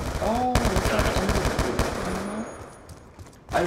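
Rapid automatic gunfire crackles in a Call of Duty: Black Ops 2 multiplayer match, dense bursts for the first couple of seconds, then thinning out, with a fresh burst at the very end.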